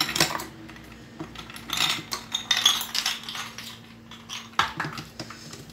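Ice cubes dropped into an apple and date milkshake, a scattered series of close, sharp clinks and clatters against the container, clustered in a few small bursts.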